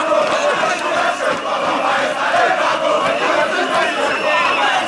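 Large crowd of protesters massing on a city boulevard, a dense, continuous roar of many voices and shouting that stays loud and steady throughout.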